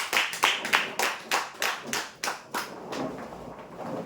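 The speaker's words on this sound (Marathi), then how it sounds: "जोरदार टाळ्या होण्यासाठी" A short burst of clapping at a prize lottery draw, about a dozen distinct claps in a loose rhythm that fade into a softer patter, fairly close.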